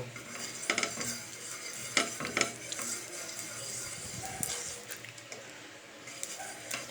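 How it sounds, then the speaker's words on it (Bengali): Soft scraping and light clinks of an eggplant stem rubbing oil around a bent metal frying pan, with a faint sizzle in the background, close and intermittent. "ফ্রাইং প্যানটাকে ভালো করে তেল বুলিয়ে নেব।"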